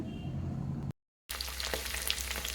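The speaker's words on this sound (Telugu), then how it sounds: "ఇప్పుడు పచ్చిమిర్చి వేగనివ్వాలి కొంచెం" Green chillies fry in a pan, a quiet steady sizzle cut by a brief dropout before it resumes brighter, with scattered crackles and spits.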